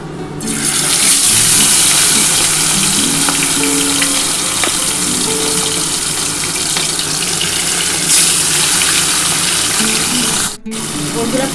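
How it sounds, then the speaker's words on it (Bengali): Pomfret fish rubbed with salt and turmeric frying in hot oil, a loud steady sizzle and crackle lasting throughout, with a short dip near the end and faint talk in the background. "এবার আমি মাছগুলো ভেজে নিচ্ছি।"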